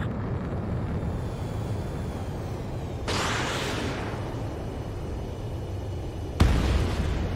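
An APC being destroyed in the Ace Combat 7 video game produces a sudden broad explosive burst midway over a constant jet engine roar, followed by a second sharp blast near the end.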